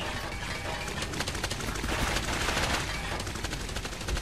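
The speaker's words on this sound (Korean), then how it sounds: "자, 쏘고. 팍팍 쏘자!" Gunfire from shooting in the horror video game Clive Barker's Jericho, a continuous loud barrage of rapid automatic shots with dense overlapping cracks and no pauses over several seconds.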